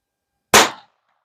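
Single pistol shot fired through a Dead Air Mask silencer: one sharp, loud, close crack with a short decaying tail, surrounded by silence.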